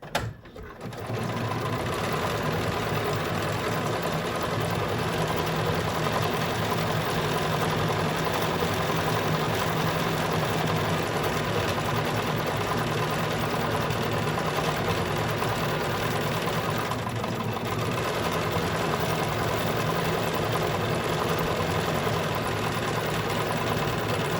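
A BERNINA sewing machine runs steadily while stitching around a flower design, a continuous, fairly loud mechanical whir with fast rhythmic needle chatter that holds nearly unchanged for the whole stretch, with no talking.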